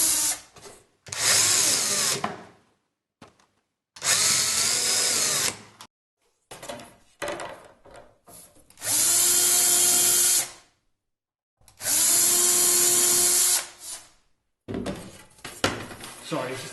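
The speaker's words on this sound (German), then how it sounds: "Jetzt suchen wir uns die Stellen, wo die Fixungen sind und bohren vorsichtig und genau die Löcher ein." A cordless power drill bores holes into the playing surface of a Sela snare cajon kit during assembly, running in four long, loud bursts with short whirs and handling noise between them, no talk over it.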